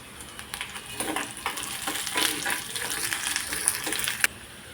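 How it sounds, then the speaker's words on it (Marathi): Onion, ginger and garlic frying in a pan for a Malvani onion-coconut masala, a steady close sizzle with scattered crackles and a few stirring scrapes, no voices. "सोनेरी रंगावरती आपण कांदा भाजून घेऊया. त्यात आलं घालते आणि लसूण तेही भाजून घेऊया कांद्यासोबत."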